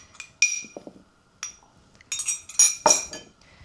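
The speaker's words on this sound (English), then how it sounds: "I'll just give that a little stir around in my bowl." A spoon stirs flour and cinnamon in a mixing bowl for a Nova Scotia blueberry grunt, producing close, scattered clinks and light scrapes against the bowl with short quiet gaps.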